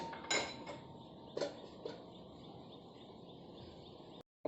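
A metal lid set down onto a cooking pot while onion theeyal simmers in a home kitchen, giving a few sharp clinks and clatters, the loudest early on, over low background hum.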